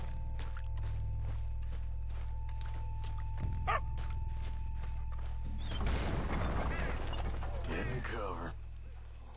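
Dogs bark in bursts amid gameplay in Red Dead Redemption 2, set against a steady low hum of game ambience, with some yips and footstep-like rustling; voices can be heard.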